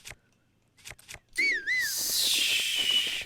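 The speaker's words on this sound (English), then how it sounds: "Did I whistle?" In the video game Zelda Breath of the Wild, a short wavering whistled tune rises and dips once, following a few soft footsteps and giving way to a hissing ambient wash, with no speech.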